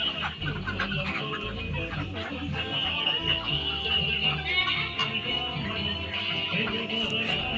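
A crowd of broiler chickens clucks and chatters continuously in a dense, steady murmur, with a constant background hum.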